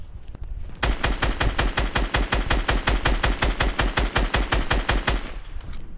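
Rapid automatic gunfire in a shooter video game, a loud steady burst of evenly spaced shots lasting several seconds, heard close with no voices over it.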